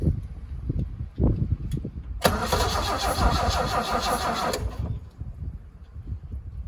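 An old engine on jump leads cranks with a fast, rhythmic whirring churn for a few seconds without catching, preceded and followed by quieter clunks and handling noises nearby.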